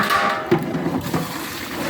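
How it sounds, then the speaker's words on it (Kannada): Water is poured into rice for a village biryani, a brief close splashing and gurgling pour that fades into a soft trickle, with no talk. "ಅಕ್ಕಿಗೆ ತಕ್ಕಷ್ಟು ನೀರು"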